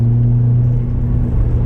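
Hybrid racing car engine holding a steady low droning rumble from inside the cabin while dropping down to third gear, loud and close with no talking.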